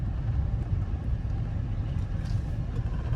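An old abandoned Hummer limo engine runs while driving, a steady low rumble that stays even and continuous throughout, with no voices.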